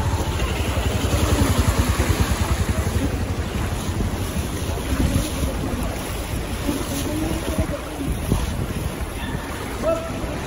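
A steady motorboat engine drones up close under rushing wind and water noise, with faint voices in the background.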